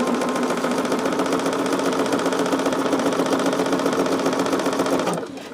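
A machine embroiders a dense full-coverage blackout design on a stocking, producing a steady, loud, fast needle rattle that holds throughout before cutting off near the end.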